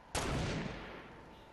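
A single loud gunshot bursts out in Fortnite Battle Royale, its blast decaying over about a second.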